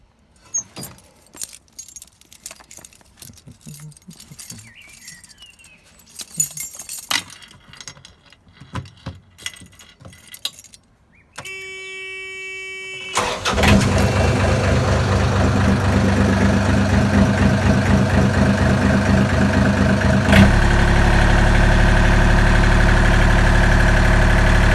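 A canal narrowboat engine on the Regents Canal is started with a key: keys jangle and clink, the starter cranks briefly, then the diesel catches and settles into a loud, steady, low idle that runs on alone.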